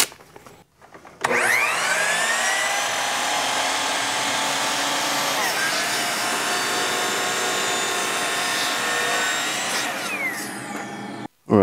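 A table saw spins up with a loud rising whine and runs steadily while cutting wood for a jig, its tone dipping briefly mid-cut, then spins down near the end, close and with no talking.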